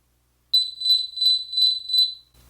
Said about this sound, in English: select a high-pitched sound you'll be able to hear in freefall